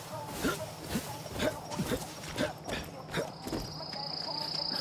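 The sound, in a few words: cicadas chirping in the video game Far Cry New Dawn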